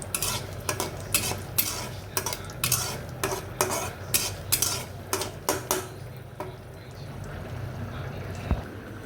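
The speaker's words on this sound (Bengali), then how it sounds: "মরিচটি আমি ভেজে নিলাম" Chili frying in a pan gives a steady sizzle beneath repeated sharp clinks and scrapes of a utensil stirring against the metal, close and moderately loud, with the clatter thinning out toward the end.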